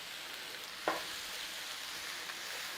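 Chopped beef sizzles in a hot pan with a soft, steady frying hiss, quiet and continuous, broken once by a brief clink near the start.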